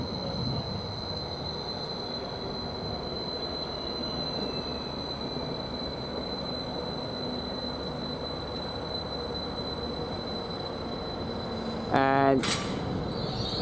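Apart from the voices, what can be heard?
train 755-403 passing Bury St Edmunds station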